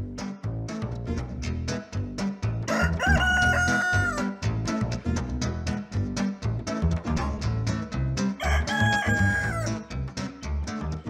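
A cartoon rooster crows twice in long, loud drawn-out calls, surrounded by clucking and lively rhythmic background music.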